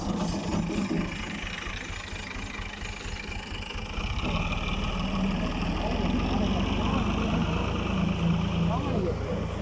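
Tractor hauling a trolley, its engine idling with a steady low chugging throb that grows slightly louder partway through, while people talk nearby.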